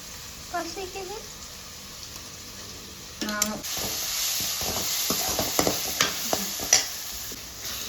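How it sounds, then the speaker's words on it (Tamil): Ginger garlic paste hitting hot oil for a fish curry. After a brief voice and a quiet start, a hissing sizzle rises, with a spatula clattering and scraping in the pan. "இஞ்சி பூண்டு பேஸ்ட்டு அதெல்லாம் சேர்த்து இதில் போட்டு நல்லா வறுத்தெடுத்துடலாம்"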